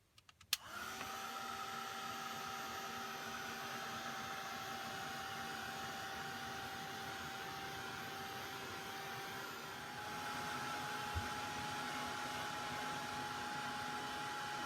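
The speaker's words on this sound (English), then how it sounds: "Let me get my heat tool." A handheld heat tool starts up and blows hot air in a steady, loud whooshing drone with a faint motor whine, running continuously close by without pause or talk.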